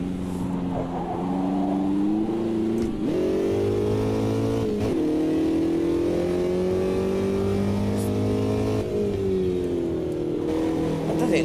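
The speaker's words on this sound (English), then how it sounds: "But such a different experience driving this after driving that great big GT3 car." A race car's engine in Automobilista 2 drones loud and close, revving and shifting pitch through gear changes as it powers around a track, with steady harmonic tone throughout.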